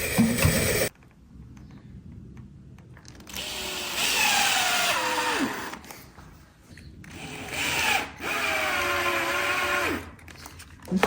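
A power drill drives a screw into a green oak brace on a framing jig, whining in several bursts that rise and then drop in pitch. Quieter gaps with handling noise fall between the bursts.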